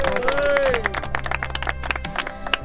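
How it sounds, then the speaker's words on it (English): Scattered, uneven clapping from a small crowd at a Sea Hunters prize ceremony honoring a third-place winner, with a brief whistle-like tone at the start and a low background hum. "Give him a nice clap."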